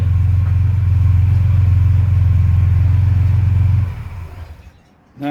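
A 1938 SS Jaguar 3½ litre drophead gives a loud, steady low engine rumble that runs evenly, then falls away and fades near the end.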